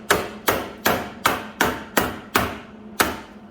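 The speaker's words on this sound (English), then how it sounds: "Now take your claw hammer, kind of beat down any high spots." A claw hammer beats down high spots on a weld, eight evenly spaced sharp metallic blows ringing out close and clear with short decays between them.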